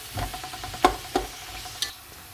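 Onions frying golden are stirred in a pan, with a quiet sizzle under a few distinct scrapes and knocks of the spoon.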